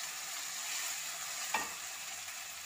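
Ground masala of pepper, cumin, fennel, onion and garlic sizzling in a pan with sautéed ginger-garlic paste for squid pepper gravy, a steady soft frying hiss with one brief stir scrape near the end, no talk.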